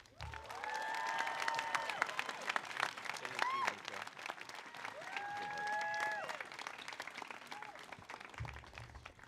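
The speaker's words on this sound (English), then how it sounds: "Let's have another round of applause for Mr. Nico de Jesus." An audience at a 12th grade graduation ceremony claps in sustained, dense applause, with cheering whoops rising above it, before the clapping fades out.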